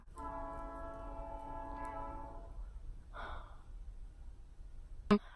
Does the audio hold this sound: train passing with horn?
yes